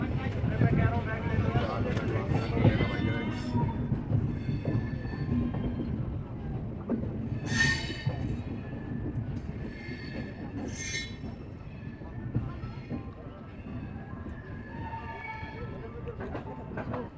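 The UP Sampark Kranti Express train rolls along the rails near Mahoba and Harpalpur with a continuous loud rumble, rhythmic wheel clatter and brief high wheel squeals, heard from on board.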